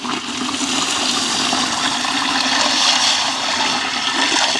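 Water poured steadily into a cooking pot for boiling rice for a village chicken biryani, a continuous rushing, splashing flow that stays loud and even throughout without a pause.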